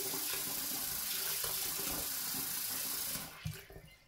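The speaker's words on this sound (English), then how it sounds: "You have to wash your okwa very well." Running water pours steadily as ukwa, African breadfruit seeds, are washed by hand, a close continuous rush that drops off near the end, leaving a few louder splashes and sloshes.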